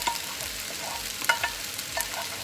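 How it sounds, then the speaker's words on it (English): Dry elbow macaroni tipped into a hot pan and stirred, giving a soft continuous sizzle and fry with scattered scraping and clinking stir sounds, close and moderately quiet, no talking. "now I'm gonna add the pasta"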